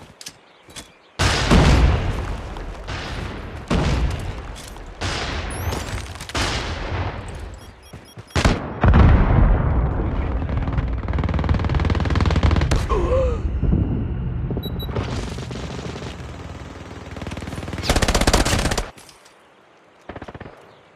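Gunfire and explosions in the Call of Duty Mobile video game, loud rapid automatic bursts and booming blasts in dense succession, with brief gaps and a sudden drop near the end.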